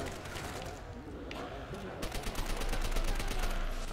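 MP40 submachine gun fire in the zombies mode of Call of Duty: World at War, a rapid burst of shots growing denser toward the end, heard under players chatting.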